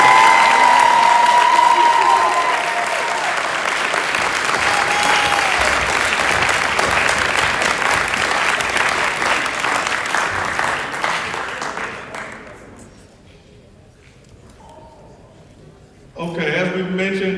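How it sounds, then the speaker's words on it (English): Audience applause rings out for six student athletes at a college signing day, loud and sustained for about twelve seconds before fading, followed by a brief renewed burst near the end. "If we could have one more grand round of applause for these 6 student athletes."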